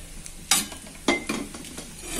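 Split dal and peanuts fry in hot oil for chivda, with a soft sizzle broken by two sharp bursts of stirring and scraping in the pan, close and without voices.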